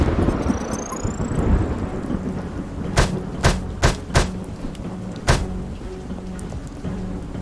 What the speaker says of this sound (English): Oh, and there was a storm.